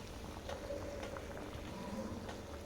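Telangana-style dal rasam with cucumber simmering in a pot, a faint, steady bubbling with soft pops and gurgles throughout.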